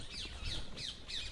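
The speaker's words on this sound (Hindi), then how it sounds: "चिड़ियों की चहचहाने की आवाज़" Birds calling in an ashram garden in Vrindavan, four sharp, squawky chirps at a steady pace, fairly close and clear over a soft background.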